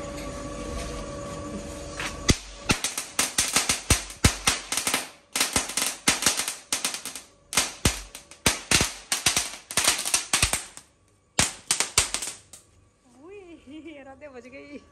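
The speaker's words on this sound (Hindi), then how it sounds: "आने वाला है एक बच्चों का एक छोटा सा पटाखा चोरसा" A small children's firecracker crackles in a rapid, loud burst of sharp pops lasting several seconds, then stops, followed by a faint voice.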